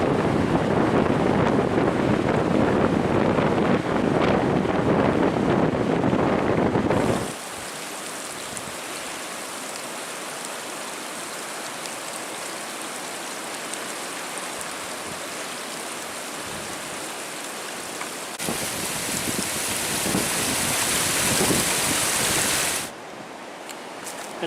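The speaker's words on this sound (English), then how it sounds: "Oh, look at those waves coming in on the shoreline." Winter waves rolling onto a Lake Superior shoreline at Pictured Rocks, Michigan, heard as a steady broadband wash with strong wind buffeting, loud at first, then softer surf, then a rougher surge before easing.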